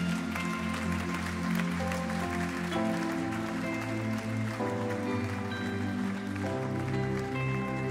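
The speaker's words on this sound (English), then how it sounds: "why don't we just applaud these guys as they go out?" A church congregation applauds in a steady, dense patter of many hands, moderately loud and continuous throughout, mixed with sustained tones of background music.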